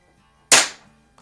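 A Baikal IZH-46M air pistol fires a single pellet on a rainy night: one sharp, loud crack with a short decaying tail, preceded and followed by near silence.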